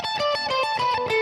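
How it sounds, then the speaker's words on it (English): A fast pedal point lick on a distorted electric guitar, played with hybrid picking in a neoclassical style. Rapid notes alternate against a repeated anchor pitch, loud and close, with no talking. "I did a lick at the beginning which was sort of a pedal point lick"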